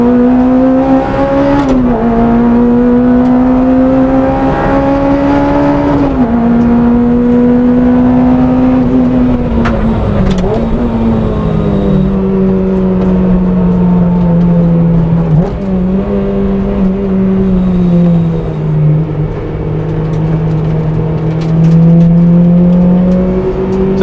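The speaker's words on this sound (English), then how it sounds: "Honda Integra DC5 then." A Honda Integra DC5 Type R with a high-compression K20A engine, roughly 245bhp, accelerates hard on a race track. The engine revs loudly and continuously from up close, with its pitch climbing and dropping through gear changes and no talk over it.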